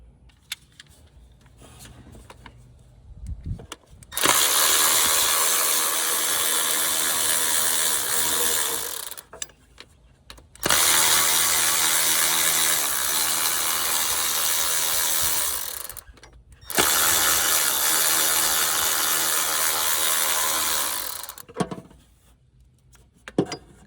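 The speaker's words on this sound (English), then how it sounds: "So now we will try to get these, looks like 6 8mm headed bolts out" A ratchet wrench works 8mm bolts out of a Chevy Equinox V6 water pump in three long bursts of rapid, loud, close clicking, separated by brief pauses.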